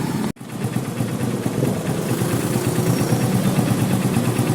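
Motorcycle engine running steadily after a carburetor repair, a close mid-pitched idle with even vibration that continues after a brief dropout near the start.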